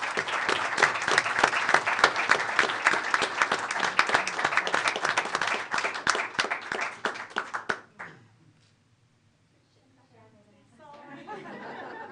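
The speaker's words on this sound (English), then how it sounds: "Give them a round of applause." An audience at a school board of education meeting claps loudly and steadily for about eight seconds, with some chatter mixed in. The clapping then stops abruptly, leaving near silence and then a low murmur of people talking.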